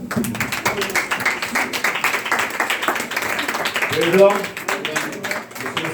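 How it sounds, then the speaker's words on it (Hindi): A congregation at a church memorial service claps for the Lord, a close, loud run of rapid overlapping claps with voices speaking and calling out over it. "तालियां देंगे प्रभु के लिए।"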